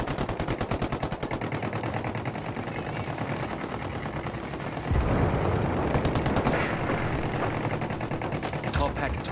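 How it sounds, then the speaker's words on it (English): Dense machine-gun fire in a gunfight between rebels and a cartel in a game, rapid continuous bursts with heavier shots layered in, loud and close throughout. "Got some rebels trading shots with the cartel."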